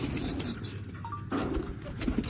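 Pigeons in a rooftop coop coo softly in short repeated phrases, close by, over a low steady background hum.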